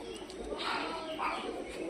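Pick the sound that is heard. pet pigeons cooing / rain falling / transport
pet pigeons cooing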